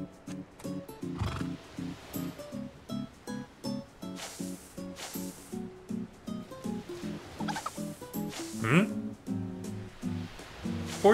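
Horse neighing in the video game Miitopia, a series of short game sound effects and musical tones repeating rhythmically, with a voice talking over them throughout.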